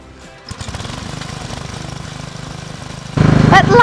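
An electric auger powered by a generator drills into the ground while building a polytunnel, a rapid chattering mechanical drone that jumps louder and harsher near the end, close by.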